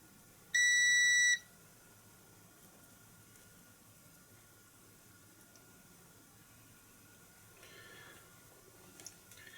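A battery over-discharge protection circuit built around a TL494 boost converter gives a single sharp, loud electronic beep lasting under a second, followed later by a fainter brief chirping tone over steady background hiss.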